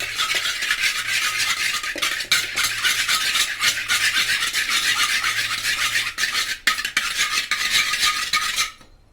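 Steady scraping and stirring of a utensil against a bowl, mixing egg, sauces and spices for paneer manchurian, continuous and close, with brief pauses and no voices.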